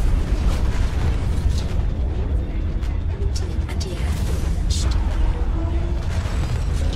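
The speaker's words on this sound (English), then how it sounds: "Eat my cannon shot." Deep booming blasts from video game cannons roll over a constant loud rumble, with excited voices talking over the action.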